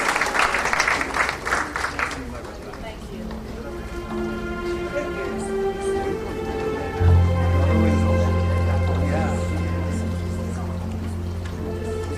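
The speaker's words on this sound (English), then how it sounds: "Ladies and gentlemen, give him a round of applause." An audience applauds an 88-year-old honoree at an Indian Arrival Day function, a dense patter of many hands at the start that fades into a steady hum of room noise and a low tone.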